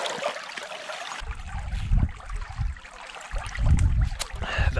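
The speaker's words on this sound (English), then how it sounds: "There's a stream down here." Running water of a small forest stream in eastern Finland near the Russian border, a steady broadband rush and trickle throughout with low rumbling surges, close and moderately loud, no talk.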